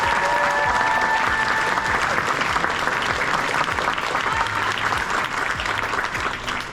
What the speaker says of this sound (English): So if you guys could give it a round of applause